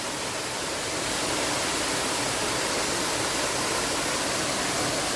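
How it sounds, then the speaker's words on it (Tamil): Kattar waterfall deep in forest in the Veerappan area, a steady, dense roar of falling water that stays loud and unbroken throughout, heard up close with no talking. "எப்படி தண்ணி ஊற்றி வருது பார்த்தீங்களா?"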